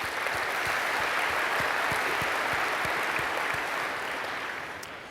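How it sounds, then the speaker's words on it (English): Audience at a SolidWorks World general session applauds for the whole span, a dense, steady wash of clapping from a large crowd with a few sharper individual claps standing out. "So a big round of applause for NVIDIA"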